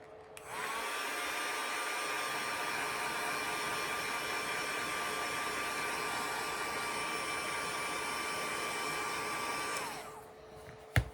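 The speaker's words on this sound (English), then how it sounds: "Now I'm going to use my heat gun to get the tail off." A heat gun blows hot air onto a glued tail of an Easter decoration, a steady loud whooshing hiss with a constant whine running unbroken for about ten seconds before switching off.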